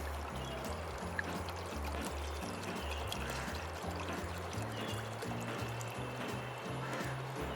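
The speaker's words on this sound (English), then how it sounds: "pour the whole bottle in" A whole bottle of wine is poured into a pan on the stove, a steady, quiet liquid stream with faint gurgling under a low, uneven background hum, with no talking.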